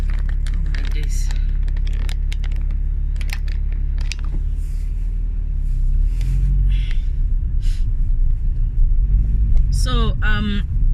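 Steady road traffic rumbles outside a moving car, a low continuous drone with passing vehicles and some clicks and knocks, while a voice speaks near the end.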